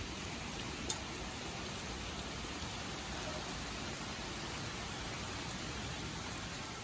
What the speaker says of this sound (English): It's so unpredictable, but it's so comforting and so good to see the rain.